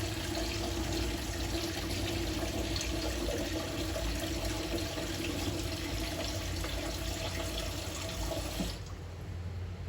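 About 200 ml of water pours steadily into a coconut milk mixture for kuih lopes, a loud, continuous splashing stream that stops abruptly near the end.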